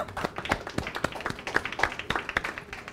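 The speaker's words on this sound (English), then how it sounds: "give yourself a round of applause" Several people clap in a brief, uneven burst of applause, sharp hand claps scattered close together with no voices over them.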